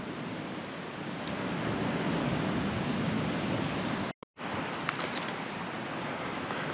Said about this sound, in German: raue Küste und ein paar ganz kleine Wellen